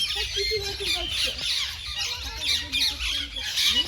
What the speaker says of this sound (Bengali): এখানে টিয়া পাখি রয়েছে এগুলো সব টিয়া পাখি